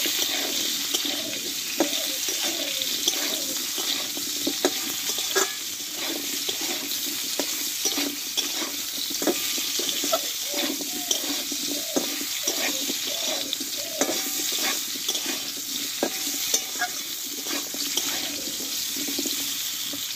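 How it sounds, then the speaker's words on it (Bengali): Potatoes with turmeric and salt sautéing in a pan give a steady close hiss and crackle over twenty seconds, with scattered scraping clicks from stirring and no voices. "আর দেবো একটু লবণ দিয়ে আলুটাও কষানোর মতো ভালোভাবে কষিয়ে নেব।"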